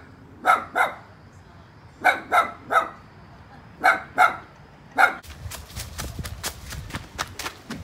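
A dog barks in short clusters of two or three, moderately near, followed by a rustling, scuffling patch with more faint barks.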